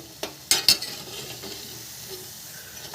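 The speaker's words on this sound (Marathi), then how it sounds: "पहिले स्लोवरती त्याचा भाजायची." Crispy onion bhaji batter made with gram flour, coriander and chili frying in oil over a slow flame, a soft sizzle with a few sharp metallic clinks and scrapes of a utensil near the start.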